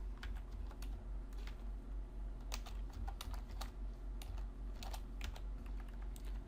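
Computer keyboard typed on while writing JavaScript Ajax code, with bursts of quick clicking keystrokes and short pauses, close and moderately quiet over a steady low hum.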